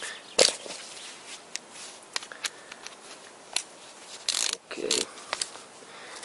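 A wrench tightening the clutch bolts on a Toyota VVT-i engine during clutch installation, heard as scattered sharp metallic clicks and short ratcheting bursts against a quiet background.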